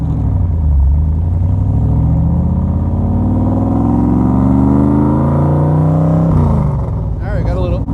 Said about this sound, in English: Great exhaust note from that Roush fuel injected V8